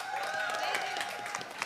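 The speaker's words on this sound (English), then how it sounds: "Round of applause. Round of applause." Audience applause at a live culinary cook-off at UTSC, a steady patter of clapping from a crowd that runs throughout, mixed with voices.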